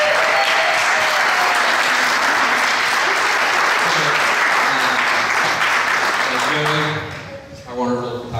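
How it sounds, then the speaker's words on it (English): Wedding guests break into loud, sustained applause that fills the room for several seconds, then fades out as a voice starts talking over the last claps. "Big round of applause to Ellen and CZ for coming to the set."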